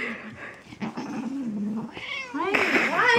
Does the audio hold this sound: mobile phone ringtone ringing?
no